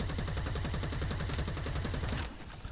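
Rapid automatic gunfire in the EVE Vanguard shooter game, a loud continuous burst of evenly spaced shots that cuts off near the end, leaving a fading tail.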